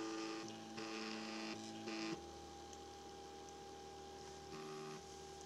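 Printrbot Simple 3D printer stepper motors whir in steady tonal hums that shift pitch in short segments as the axes move, quiet and close, with no talk.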